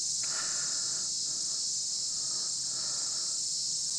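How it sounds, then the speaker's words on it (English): A steady, high-pitched insect drone of cicadas fills the air continuously, loud and unbroken, with faint rustling noise below. "The cicadas are out in full force this morning."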